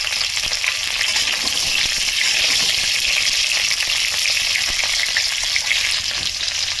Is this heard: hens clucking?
no